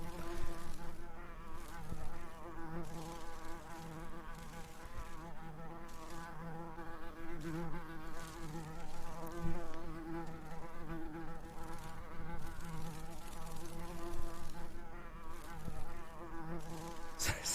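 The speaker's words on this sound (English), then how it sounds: "The fly buzzing noise would drive anyone insane" A fly in The Last Door drones continuously for the whole stretch, a steady close buzz that wavers slightly in pitch and never stops.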